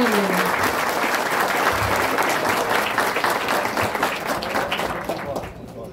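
A crowd applauds the Toniolo family at a dam reinauguration ceremony, full sustained clapping throughout with voices mixed in and a slight fade near the end.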